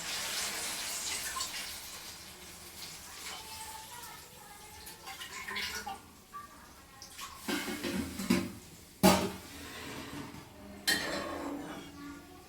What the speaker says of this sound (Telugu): వేగిన తర్వాత మనకి రవ్వకు సరిపడా వాటర్ పోసుకోవాలి.